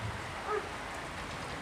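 Heavy rain falls steadily in a village setting, a dense, even hiss of drops on surfaces that continues without a break, with no talk.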